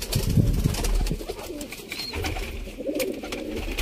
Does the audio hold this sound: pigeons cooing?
yes